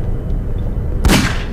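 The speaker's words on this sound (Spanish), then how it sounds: "Un solo balazo" A single sharp gunshot rings out in the horror video game Nightmare House 2, a sudden loud burst that decays after a quiet, rumbling lead-in.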